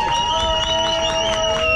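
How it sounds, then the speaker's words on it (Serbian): A crowd applauds and cheers at a prize ceremony for a 402 m street race at Ponikve airfield, dense clapping under steady tonal whistles or sirens, with some voices mixed in. "molim vas veliki aplauz."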